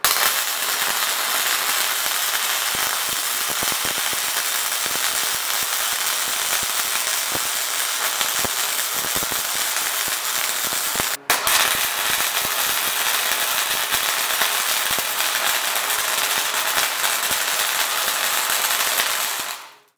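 Arc welding on a three point trailer hitch, a steady loud crackling and sizzling hiss that runs nearly twenty seconds with one brief break, close up with no talk.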